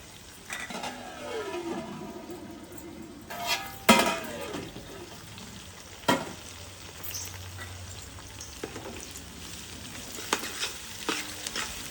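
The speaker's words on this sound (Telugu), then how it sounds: "అల్లం ఎల్లిగడ్డగా పచ్చివాసన పోయేదాకా గోలించుకున్నాక" Onions, ginger and garlic fry in a pan for a tamarind pulusu, with a steady sizzle throughout and the spoon scraping and stirring at intervals, including a few louder clatters.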